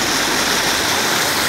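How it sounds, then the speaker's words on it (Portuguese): The Cachoeira de Neves waterfall on the Urucuia river roars steadily, a loud, broad rush of falling water heard up close with no talk over it. "Essa é a conhecida Cachoeira de Neves."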